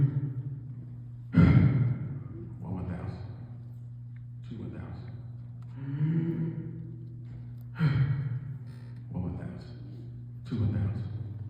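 A voice imitates the changing breathing of a dying man: a series of loud, rasping sighs and gasping breaths in irregular bursts, with quieter pauses between them, over a steady low hum.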